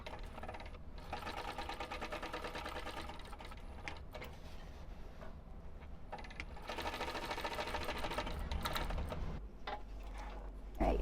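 A sewing machine stitches a zipper pocket onto a wristlet at a 3.5 stitch length, running in steady rapid bursts with short pauses between lines, close and fairly quiet, with no talking over it.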